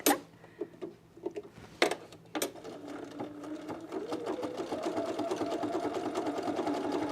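A sewing machine stitches over a thick seam allowance on Glissando pants, starting with a few halting bursts, then settling into a steady rapid run that grows slightly louder, close up with no talking.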